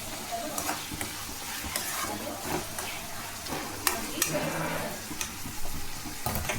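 Mint chutney mixture sizzles and crackles in oil while being stirred, with steady frying hiss throughout and occasional sharp scrape and tap of a spoon against the pan.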